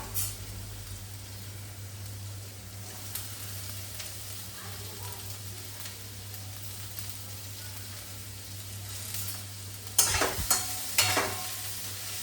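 Onion frying in a pan for noodles gives a soft, continuous sizzle close by with a low steady hum beneath, and a few louder scraping stirs arrive near the end.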